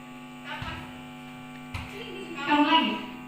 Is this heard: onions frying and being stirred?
no